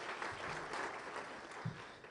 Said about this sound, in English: go ahead, applause